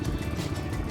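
A motorcycle engine chugs close by during a rough ride toward a river campsite, a brief, rumbling, uneven burst of mid-revving exhaust with some clatter.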